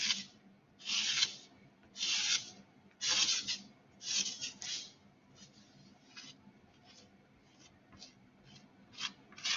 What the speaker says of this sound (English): It's going to take me a quick second here to get the ink distributed.